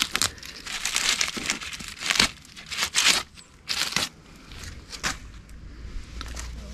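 Petunia stems being cut back by hand, with close rustling and crinkling of foliage and brief snipping and tearing bursts in an uneven rhythm.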